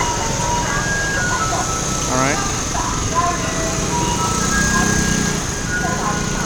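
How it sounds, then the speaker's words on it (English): A recycling truck on a street in Hukou, Hsinchu County, Taiwan, plays its tinkling jingle melody in the background, steady and moderately loud amid traffic noise, while someone talks over it. "And the recycling truck has its own music."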